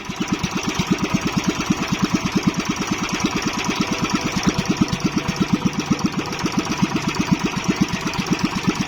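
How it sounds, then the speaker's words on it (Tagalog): A small fishing boat's engine runs steadily: close, loud, rhythmic chugging with evenly spaced rapid thumps over several seconds, no voices. "yung makina na binili natin kay Frozen"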